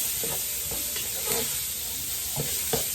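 Onions being sautéed in a pot for potato soup give off a strong continuous sizzle and hiss, with soft spoon scrapes pushing them around at an uneven rhythm, close up and without speech.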